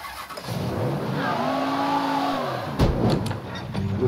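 A car engine in the Mafia III video game revs up steadily, its pitch rising and holding loud and close, then a sharp burst and shift near the end.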